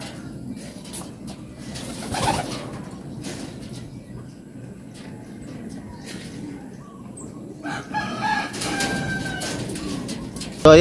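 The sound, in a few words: pigeons cooing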